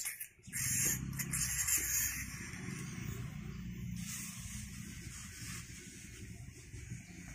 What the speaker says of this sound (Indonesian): Ini kita semprotkan di bagian bawah daun.